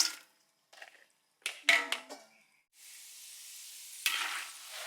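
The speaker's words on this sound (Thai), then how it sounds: "อันนี้นะครับเราก็จะมาทอดเป็นรอบสองนะครับ" Sausages sizzle in hot oil during a second deep-fry, with bursts of crackling and stirring clatter at the start, then a steady close hiss of frying that swells once more near the end.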